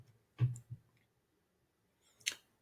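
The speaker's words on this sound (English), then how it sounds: "So I'm going to click on that." Mouse click selecting the Zoom for G Suite add-on in Google Classroom, heard as a couple of soft, close clicks with a brighter sharp click about two seconds later, alone in a quiet room.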